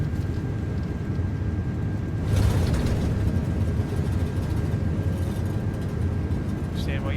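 Airliner engines at takeoff thrust in Microsoft Flight Simulator 2024 make a loud, steady, broad roar that swells slightly partway through, while someone talks over it.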